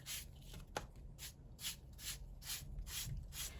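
Paper label misprints being scraped, giving soft rhythmic rubbing and scratching strokes about every half second, faint and close over a low background hum.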